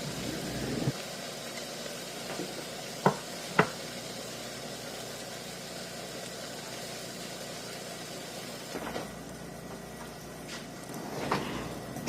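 Tennessee tube steaks, slit hot dogs, sizzle steadily in a pan, a faint continuous frying hiss with a few sharp clicks and pops scattered through it, no voices.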